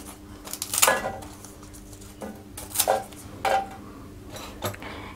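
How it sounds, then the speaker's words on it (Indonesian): Pandan leaves being cut into pieces with a knife, giving several sharp chopping taps on a board at an irregular pace over a quiet kitchen background. "saya potong-potong terlebih dahulu dan pandannya"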